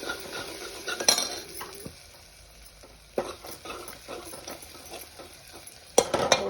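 Green chili and turmeric stirred in a hot tempering pan, a utensil scraping and clinking against the metal over a soft oil sizzle, with a few sharper knocks near the start and end.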